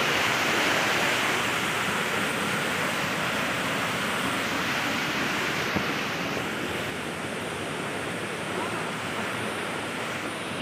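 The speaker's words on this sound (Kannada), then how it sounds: "ಫುಲ್ ನೀರು ಮತ್ತೆ ಫುಲ್ ನೀರು ಬರ್ತದೆ ಜಾಸ್ತಿ ನೀರು" Floodwater rushes past during a heavy downpour, a loud, continuous roar of flowing water that stays steady throughout with no pauses.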